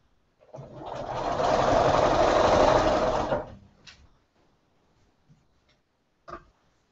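A sewing machine stitches quilt pieces together in one steady, loud run of about three seconds, then stops, leaving a few faint clicks and handling sounds.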